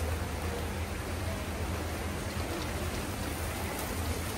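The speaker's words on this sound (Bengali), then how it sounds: "পাতার মধ্যে বৃষ্টির পানি পড়ছে" Rainwater falling steadily on leafy plants, curry leaf and Malabar spinach, a soft, even hiss of rain heard up close with no voices.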